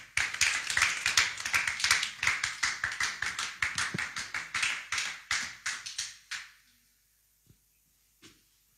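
A church congregation applauding together, a dense burst of clapping that rises, holds for several seconds, then tapers off and falls quiet, followed by a couple of isolated claps.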